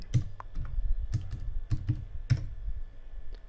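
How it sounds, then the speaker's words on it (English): A password is typed on a computer keyboard, with a short run of close, crisp key clicks in uneven bursts and brief pauses, alone and fairly quiet. "Now type your computer password."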